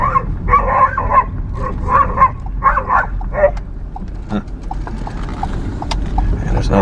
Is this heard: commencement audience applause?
no